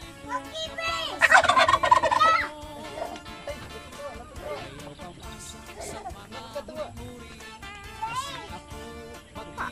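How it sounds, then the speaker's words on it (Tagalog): A turkey gobbles loudly at close range in a rural yard, a rapid warbling burst followed by softer calls, with people and someone talking around it. "Anong sabi ng pabo, Ibi?"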